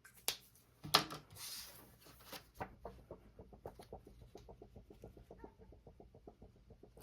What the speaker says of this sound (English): they're one little happy chickens. They got a little treat from Dad.